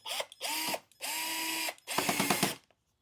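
Power drill driving screws into the pre-drilled holes of an Arachnid Cricket Pro 650 arcade dart cabinet, three close whirring bursts with a rising motor pitch, the last one rattling as the screw seats.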